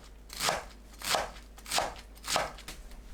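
A knife slices washed spring cabbage (bomdong) at 0.8 cm intervals, four crisp, evenly spaced chops landing close by in a steady rhythm.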